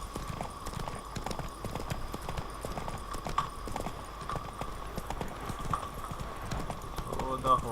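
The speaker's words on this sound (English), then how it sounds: "The horse won't go faster than this." Horse hooves clip-clop in a steady, even rhythm as the mount trots along in The Witcher 3: Blood and Wine, with a faint background drone and someone talking over the hoofbeats.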